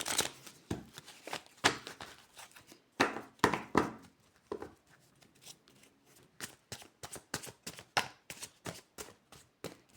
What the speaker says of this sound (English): Okay, I'll shuffle one more time.